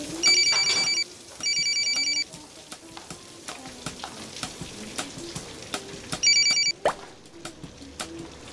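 An old-style telephone rings in short repeated electronic bursts, three clear rings spaced across the scene, over quiet background rustling and faint knocks in a home setting, with no speech.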